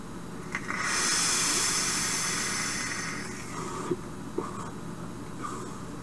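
Vapour from a Vandy Vape Govad RTA atomizer on a Minikin 2 mod at 60 watts gives a steady, airy hiss that swells, holds for a few seconds and fades, followed by small faint clicks.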